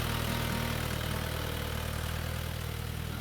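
A BCS Valiant 600 compact tractor engine runs in a cacao plantation, a steady close droning idle with a constant low hum and no pauses.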